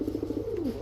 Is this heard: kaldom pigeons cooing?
yes